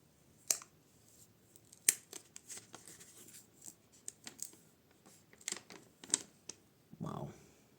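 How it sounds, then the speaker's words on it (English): New POCO F4 GT smartphone being unwrapped from its protective plastic film, with sharp crinkling snaps and rustles in scattered bursts, close and fairly quiet. "Well, unwrap."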